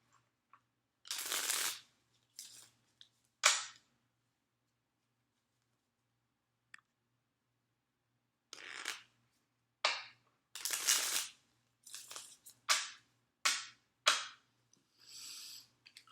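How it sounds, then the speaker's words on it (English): A Crowley Thoth tarot deck being shuffled up close in short, crisp bursts, a handful of quick riffles separated by pauses, with no talk. "Just 2 more shuffles, you guys."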